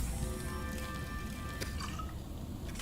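Water dripping and trickling from a bladderfish in the underwater survival game Subnautica, a soft steady liquid drip with a few brighter splashes, heard alone at low volume.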